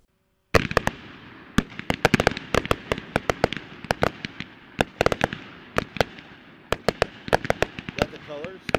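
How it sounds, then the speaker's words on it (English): Seven 200g firework cakes fired one after another outdoors, a sharp launch followed by a long irregular barrage of loud pops, bangs and crackles that carries on to the end of the clip. "we're going to shoot one of each color, in this case 7, and we're going to try to create a rainbow effect"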